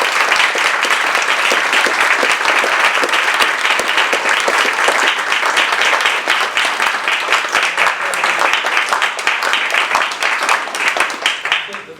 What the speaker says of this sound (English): That round of applause just gives you an indication of how much you're valued